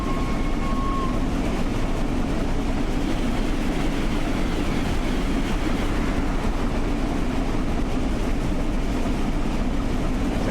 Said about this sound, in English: Here comes another service coming the other way.